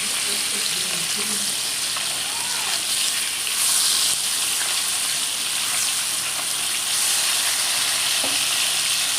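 Pieces of fish fry in hot oil in a pan, with a steady, bright sizzle filling the whole stretch and occasional faint scrapes as they are moved about.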